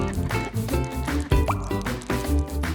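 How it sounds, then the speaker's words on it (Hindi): Water poured over a freshly planted seed, a continuous splashing, trickling flow with a brief gurgle midway, set under a children's song with music. "पानी अच्छे से डालो।"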